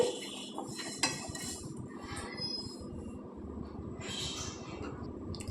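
Roasted sesame seeds are scraped from a pan onto a plate with a spoon, producing close metallic clinks and scraping rattles with a sharp knock near the start and bursts of clatter throughout.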